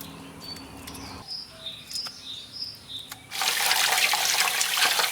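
Half of a large fish head is rinsed at a sink: a few light clinks and squeaky chirps, then running tap water bursts in as a loud, steady gush for the last couple of seconds.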